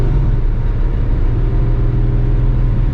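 A 1961 Ford Falcon engine idling, a steady low rumble that stays loud and close without changing pace.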